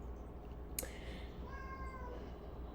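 A house cat meows once, a short clear call rising over a steady low background hum, with no talking.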